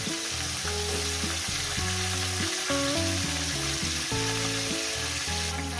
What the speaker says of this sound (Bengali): আমি মাছের মাথাগুলো এটা ভেজে নিয়েছি